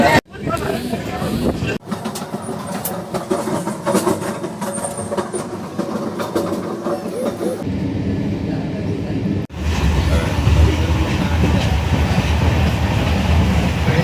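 Purna to Patna Express train running, heard from inside the carriage as a steady loud rumble with rhythmic rail clatter, the tone shifting briefly partway through.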